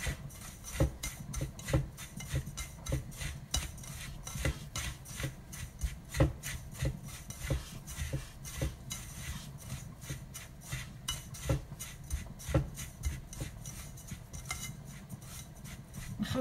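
Couscous grains being mixed with oil by hand or spoon in a bowl, a steady close run of soft gritty rubbing and stirring scrapes with small clinks, no talk.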